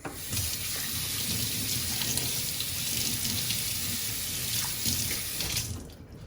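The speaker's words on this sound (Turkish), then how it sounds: "Ellerimi güzelce yıkayabilirim." A tap runs steadily into a sink while hands are washed with soap, a continuous close water rush that cuts off just before the end.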